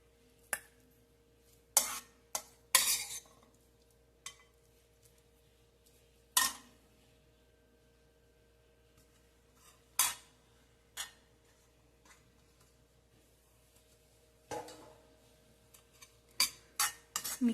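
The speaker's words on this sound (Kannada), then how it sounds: "ಸಪ್ರೇಟ್ ಎತ್ತಿಟ್ಕೊಂಡ್ಬಿಟ್ಟು ಅದರಲ್ಲೇ ಅನ್ನ ಹಾಕಿ ಮಿಕ್ಸ್ ಮಾಡ್ತೀನಿ." A spoon scrapes and clinks against a pot while cooked rice is mixed into mango chitranna gojju, sharp scattered clatters separated by quiet pauses, with a faint steady hum underneath.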